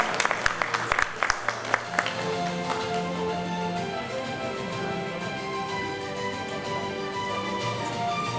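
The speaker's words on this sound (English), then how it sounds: "Once again, ladies and gentlemen, a huge round of applause." Scattered audience clapping at an awards ceremony, a few distinct claps in the first two seconds that quickly give way to music playing through the hall.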